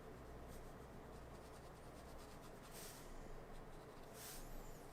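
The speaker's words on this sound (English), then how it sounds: "So I just kind of lightly sketch that in." Soft, continuous scratching and rubbing of a pencil lightly sketching a mouth drawing, with faint quiet strokes and no talking.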